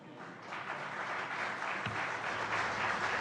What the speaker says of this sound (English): you quote someone else and immediately everyone applauds